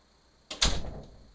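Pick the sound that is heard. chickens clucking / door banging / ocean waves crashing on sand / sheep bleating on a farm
door banging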